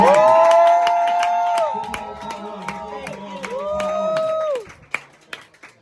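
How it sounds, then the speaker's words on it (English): An audience at a slam poetry event cheers and applauds as scores are announced. Whoops and tonal vocal calls ring out over scattered clapping, then the noise drops off near the end. "Give a round of applause."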